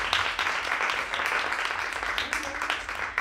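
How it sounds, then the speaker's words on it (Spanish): An audience applauds at a science careers event, a dense, continuous wash of many hands clapping, fairly loud and close, with no pauses. "también se merecen un aplauso"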